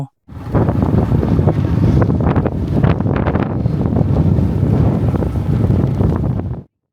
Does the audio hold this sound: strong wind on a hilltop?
yes